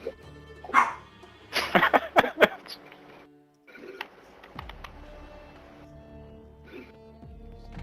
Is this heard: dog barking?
yes